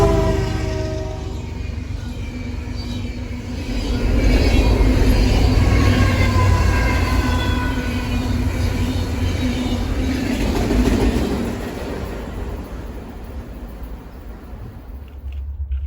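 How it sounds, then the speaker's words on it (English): An intermodal freight train led by a GEVO locomotive rolls past outdoors, a steady low rumble that swells as the engine nears and then holds as the cars go by. Faint wheel clatter runs through it, and no one speaks. "Here we caught an intermodal with a 2200 GEVO leading the way."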